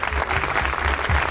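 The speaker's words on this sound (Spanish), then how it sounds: "Un aplauso para los artistas" An audience at a novel launch event bursts into loud, sustained applause for the performing artists, dense clapping close up with no voices over it.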